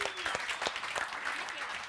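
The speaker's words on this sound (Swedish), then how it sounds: "Ta en applåd!" An audience bursts into brisk applause at an improv theater show, a short, lively patter of many hands clapping close by, with faint voices mixed in.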